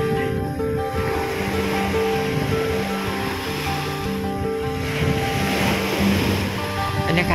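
Sea waves wash continuously at Jomtien Beach in Pattaya, a steady loud surf roar with faint music and a voice in the background.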